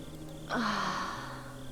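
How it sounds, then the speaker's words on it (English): A single soft breath or sigh in the horror dating game Sucker for Love, a quiet exhale rising briefly over a faint low ambient hum. "Do you hear that? Breathing."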